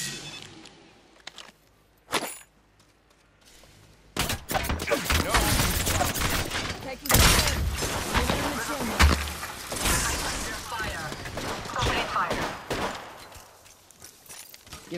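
Bursts of automatic gunfire and impacts in Apex Legends, loud and dense through a firefight after a quiet stretch, with a scripted game voice breaking in.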